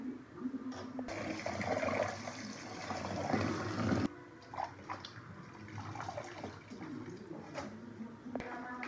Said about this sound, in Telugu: ఫ్రెష్ పుదీనాని వాష్ చేసుకుంటున్నా.